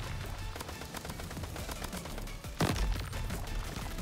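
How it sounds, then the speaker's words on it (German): Gunfire in the Crab Champions video game, a dense ongoing clatter of shots under a steady noisy wash, with one sharper louder blast near the end. "Alter, wer schießt denn?"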